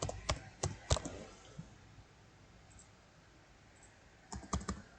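Short bursts of computer keyboard typing come in quick clusters of clicks near the start and again near the end, close and fairly quiet, with near silence in between.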